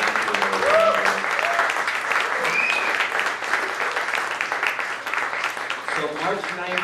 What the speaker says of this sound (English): Let's give them a round of applause for making this space possible.